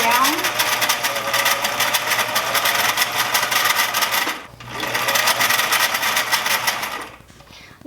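A sewing machine runs in long, steady stitching passes along a half-inch sleeve seam on a sloper garment. The close, even whir pauses briefly midway and tapers off at the end, with no voices over it.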